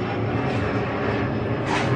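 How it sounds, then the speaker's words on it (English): An aeroplane passing overhead gives a steady, loud, broad engine roar that fills the whole two seconds, with no talk over it. "It's always an aeroplane."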